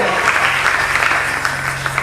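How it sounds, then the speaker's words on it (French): A church congregation applauds steadily at a worship service, a dense wash of clapping over a low hum, with no clear speech on top. "On applaudit le Seigneur."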